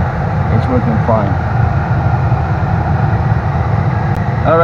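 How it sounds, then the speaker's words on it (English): The blower motor of a 2007 Acura TL, fitted with a new resistor, runs with a steady, loud whooshing hum that holds even throughout, with a few faint clicks. "the blower motor seems to be working fine"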